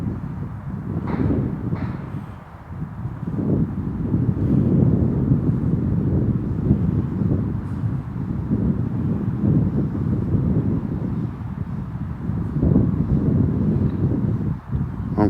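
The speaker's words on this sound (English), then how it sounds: "It's really windy up there." Steady wind buffeting a microphone during a first FPV drone flight, a loud continuous low rumble with gusty swells throughout and no speech.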